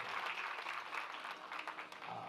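Faint, distant applause from the audience at a Shrimad Bhagwat Katha religious gathering, a steady wash of many hands clapping throughout.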